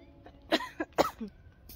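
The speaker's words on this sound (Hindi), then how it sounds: "वॉक कर करके खांसी चलने लग गई है" A few short, harsh coughs in quick succession at close range, separated by brief pauses against a quiet background.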